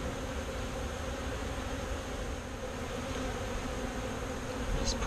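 A dense, steady drone of many bees buzzing all around an opened top bar hive, continuous and fairly loud with no voices.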